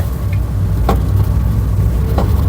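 A 2015 Honda Vezel Hybrid with a slipping gearbox runs with a steady, loud engine drone and faint, uneven rising surges, heard close with no talk.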